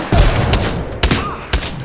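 Gunfire in the video game Apex Legends: three loud, sharp bursts of shots spaced about half a second apart over a steady rumbling game background, with no talking.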